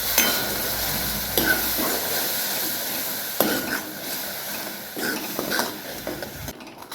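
Spiced curd masala being stir-fried in a pan, with a continuous frying sizzle broken by repeated scraping clicks of a spoon against the metal.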